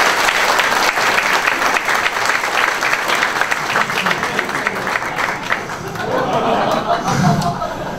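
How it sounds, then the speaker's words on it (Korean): An audience applauds to encourage a father walking up to speak at a dads' camp preparatory meeting. The clapping is loud and sustained, with scattered chuckles among the crowd. "아버님 나오실 때 격려의 박수 부탁드립니다."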